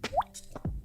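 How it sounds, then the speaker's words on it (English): A water drop sound effect plays as a quick, bright plop with a rising pitch, followed by a second softer drip-like plop, close and clean. "I have just the water drop mostly."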